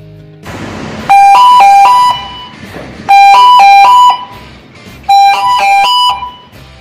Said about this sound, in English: The inspector will ask to check the independent high-level overfill alarm.